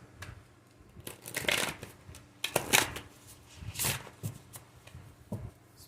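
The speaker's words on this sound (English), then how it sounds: "Let me shuffle a couple times, you guys." A deck of tarot cards is shuffled by hand in several quick, crisp riffling bursts separated by short pauses, close and moderately quiet.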